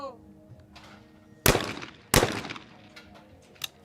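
Shotguns fired at a trap shooting World Cup final in Rome, two loud, sharp blasts less than a second apart, close and echoing, with quiet ambient noise and a faint click afterward.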